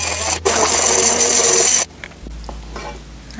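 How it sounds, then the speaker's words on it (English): Immersion blender pureeing cooked apple butter, a loud steady whirring buzz for nearly two seconds that cuts off abruptly, leaving a low hum and faint clatter. "immersion blender here"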